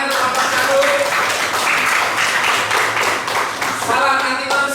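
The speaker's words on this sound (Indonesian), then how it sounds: "Beri tepuk tangan untuk kelompok 1." An audience of students in a classroom applauds for a group, a continuous burst of many hands clapping for several seconds, fairly close, with some voices mixed in.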